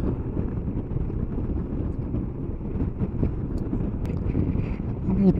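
Steady wind buffets the microphone on high, open moorland during a Suzuki Burgman scooter ride in Derbyshire, a continuous low rushing roar with engine hum beneath and no breaks for the whole stretch.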